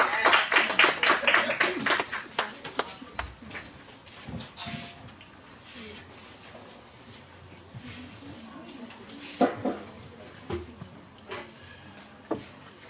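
A burst of applause from a crowd at a Kwanzaa event, greeting a bishop at the start, thinning into scattered claps and room noise.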